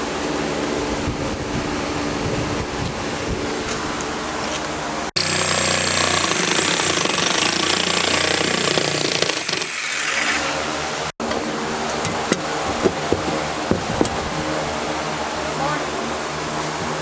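A power saw, either a jigsaw or a reciprocating saw, cuts through a car's exhaust during a side exhaust installation. The rough, buzzing cut runs loud and nearly continuous, broken by brief stops and a few sharp knocks.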